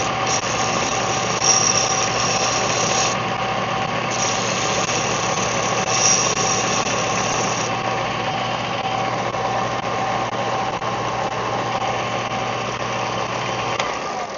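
A Skil belt sander runs continuously, producing a steady motor hum with a high whine and faint tonal overtones, loud and close, with no pauses.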